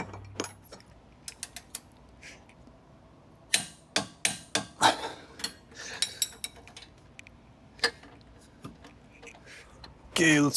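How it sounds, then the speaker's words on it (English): A torque wrench tightens the brake caliper bolts on a 36-year-old Foxbody Mustang, sounding as scattered sharp metallic clicks and clanks with short ratcheting bursts and pauses between them, close by. "So we'll drop a torque wrench on him."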